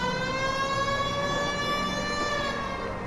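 A police car siren in the LA Noire video game holds a steady, rich wail with many layered tones. It stays loud and even throughout, and no one speaks over it.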